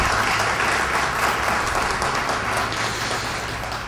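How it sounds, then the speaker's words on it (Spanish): Sustained applause from an audience honoring footballers at a municipal talk in Miraflores, Peru, a dense steady wash of clapping that stays loud throughout and eases slightly at the end. "Para ellos también el aplauso de todos ustedes."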